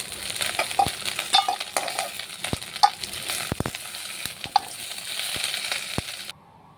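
A fish head fries in oil with a continuous close sizzle, broken by sharp metallic clicks and taps of a utensil against the pan before the sound cuts off abruptly.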